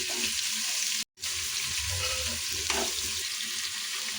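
Onions fry in a pan for chicken biryani, giving a soft, steady sizzle with occasional stirring scrapes, quiet and close, with a momentary dropout partway through and no talk.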